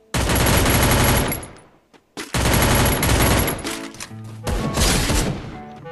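Rapid automatic gunfire in the mobile battle game Garena Free Fire, loud sustained bursts with a brief gap, then further volleys and crashing impacts, no speech over it.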